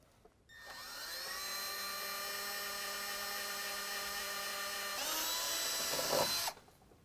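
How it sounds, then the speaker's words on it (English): A power drill bores a pilot hole in metal on a 2018 Ford F-150 during a lift kit install, a steady high whine for about five seconds that shifts in pitch as it bites, then stops. "drill a pilot hole, and then drill it out to 11/32"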